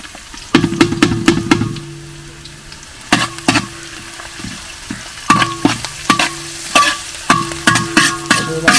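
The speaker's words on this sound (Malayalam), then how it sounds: "നന്നായിട്ടൊന്ന് വരട്ടിയെടുക്കണം." Ginger and garlic sautéing in a pan for a Kerala crab roast in a village kitchen: steady frying sizzle broken by repeated scraping stirs of a spoon against the pan, close up.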